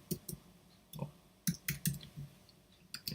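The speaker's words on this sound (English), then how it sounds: "Click on there." Sharp computer mouse clicks, about eight, land close up in an irregular pattern, with brief pauses between small bursts, over a faint room hiss.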